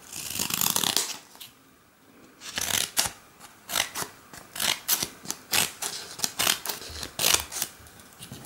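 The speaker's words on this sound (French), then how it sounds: "l'enfant peut s'amuser à découper des petites formes comme il le souhaite" Scissors snip through several folded layers of paper in a quick, uneven series of close, crisp cuts, with short pauses between runs.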